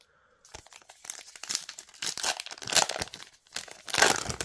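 One Piece trading card booster packs from a 20-pack Cardtoon box are torn open by hand, loud close crinkling and ripping foil wrappers in several bursts after a moment of silence, the noise growing toward the end.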